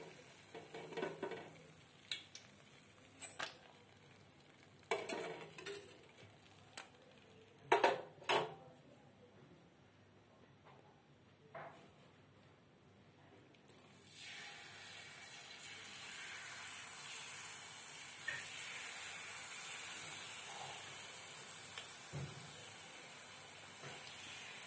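Jilipi frying in hot oil, a steady sizzle and hiss that swells in the second half, with earlier clinks and stirring knocks of a utensil against the pan, close and alone without talk.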